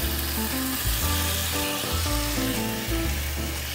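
Chorizo de Bilbao for paella sizzles loudly in a pan, a dense close hiss layered with stirring scrapes and faint tonal hums from the kitchen, no speech.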